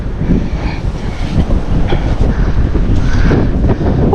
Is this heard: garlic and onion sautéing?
no